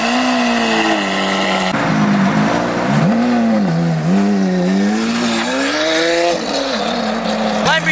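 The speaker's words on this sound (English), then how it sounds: "Lamborghini Aventador heading out to Bullfest." A Lamborghini Aventador SV drives along with a trailer behind, its engine droning loud and close with rising and falling revs as it shifts through gears, and a brief voice near the start.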